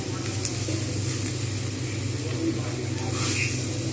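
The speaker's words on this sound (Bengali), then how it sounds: "এরকমভাবে একটু জাস্ট ভালো করে মশলাটা সবজির সঙ্গে কষিয়ে নেব" Spice mix frying with spinach and vegetables for a palong shak ghonto, a steady low sizzle with light stirring, soft and continuous throughout.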